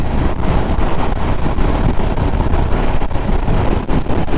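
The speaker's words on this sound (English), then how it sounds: "it's so windy" Strong wind buffets and roars across the microphone on a Royal Enfield Continental GT 650 motorcycle ride, loud and constant, with a low rumbling undertone of motion.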